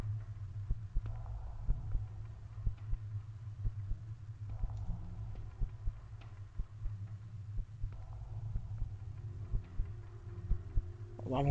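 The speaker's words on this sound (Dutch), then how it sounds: "Je hoort ook zo'n hartslag, joh," A slow, regular heartbeat thuds throughout a tense moment in a horror adventure video game, low and muffled over a faint background hum, with no one speaking.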